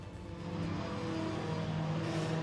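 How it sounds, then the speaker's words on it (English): Ginetta Junior race cars on a damp, greasy Silverstone circuit head down toward Stowe Corner, their engines a steady, fairly distant droning roar that holds level throughout with no talk over it. "So cars then making their way down towards Stowe Corner."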